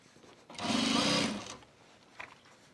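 A sewing machine stitches the seam of a self-drafted bag in one steady, close run of about a second, then stops, followed by a faint click.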